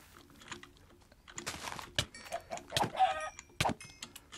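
Chicken clucking in the Minecraft Vault Hunters modpack, a few short game-sound bursts with crunchy effects, close and fairly loud, with no talking.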